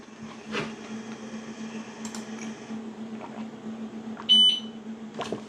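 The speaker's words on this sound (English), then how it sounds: "That beep is it telling you that we are ready to go." An xTool laser engraver gives a short, bright electronic ready beep over a quiet background hum, with a few faint clicks around it.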